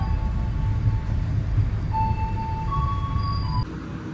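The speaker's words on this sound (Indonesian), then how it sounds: "Itu dia kereta api Majapahit." The Majapahit passenger train rumbles past at a station in Indonesia, a steady heavy low roar of wheels and cars with faint squealing tones rising near the end.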